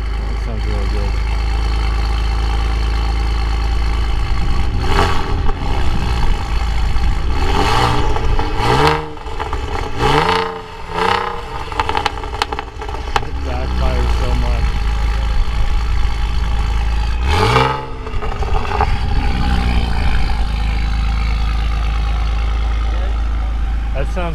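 A 2008 Saab Turbo X engine running on 100 octane fuel at an owners' convention, loud and close, with a low idle broken by sharp revs that rise and fall, and people talking over it.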